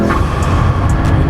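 A McLaren P1 hypercar's engine drones loud and steady up close, a continuous broadband roar with no voices over it.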